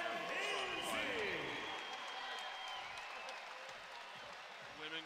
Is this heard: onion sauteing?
no